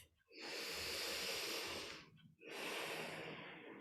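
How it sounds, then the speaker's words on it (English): Two long, slow breaths during yoga practice, each a steady airy rush through the nose or mouth with a short pause between them, close and soft. "as you complete your next exhale, you can return to an easy breath"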